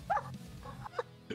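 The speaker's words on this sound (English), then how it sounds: "dog." A dog gives a few short, quiet barks and yips in quick succession, close but faint, with no talking over them.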